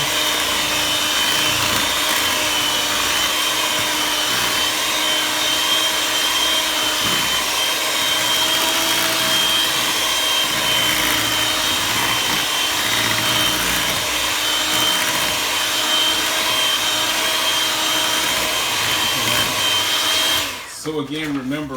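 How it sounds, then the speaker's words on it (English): An electric mixer whirs steadily through zucchini bread batter, a loud continuous motor drone running nearly the whole time before cutting off abruptly at the end with a brief clatter. "you're just going to mix it until it's all incorporated"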